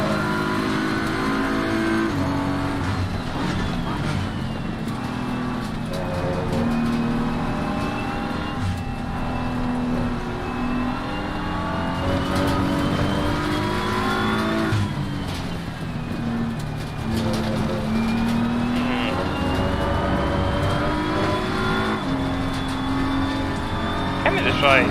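Race car engines in Assetto Corsa Competizione drone and rev continuously through gear shifts on a competition server, loud and close, with tire noise and a driver talking over the car.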